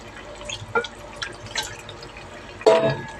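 Water is added to a pan of fish and vegetable curry in a few brief splashing pours and drips, close by, with a louder slosh near the end.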